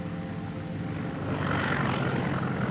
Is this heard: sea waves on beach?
no